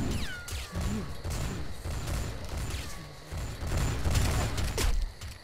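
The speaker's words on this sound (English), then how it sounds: "And now they're shooting at me." Enemies fire at the player in Bloodrayne 2, giving repeated sharp shots and crashes over a busy, constant game soundscape with whooshing effects.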